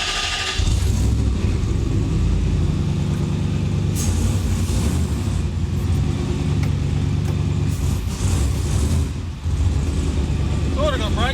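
A turbocharged 1UZ V8 in an HQ Kingswood ute rumbles loudly and close by as the vehicle drives off, with a deep steady engine note and brief revs, and people talk over it.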